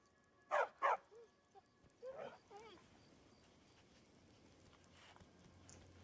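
A stray dog in Skyrim gives two loud barks, then softer yips and whimpering sounds that fade into a quiet game ambience with light background noise.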